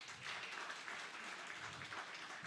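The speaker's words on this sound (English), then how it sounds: "A round of applause." Audience applause at an exhibition day event in Kano State, a faint, steady wash of crowd clapping heard from a distance without a break.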